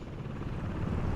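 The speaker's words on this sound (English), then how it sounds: "What are all these helicopters doing out here?" Helicopters in the city-building game Workers & Resources: Soviet Republic give a steady low rotor drone and wash that holds level for the whole stretch, with no talk over it.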